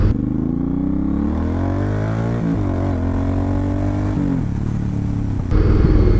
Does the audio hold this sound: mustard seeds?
no